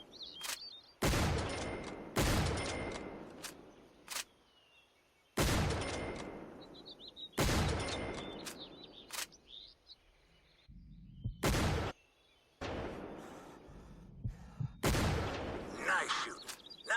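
Rifle gunshots in the hunting video game Cabela's Big Game Hunter 2012: about eight loud, sharp cracks fired at irregular intervals, each followed by a short ringing decay, with quieter ambient game sound between shots.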